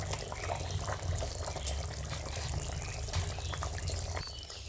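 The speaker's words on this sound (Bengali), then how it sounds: "দেখুন বন্ধুরা ঝোলটি কত সুন্দর ফুটে উঠেছে" A pot of rohu fish curry at a rolling boil, with dense bubbling and a low simmering rumble that stays steady and close for the whole stretch.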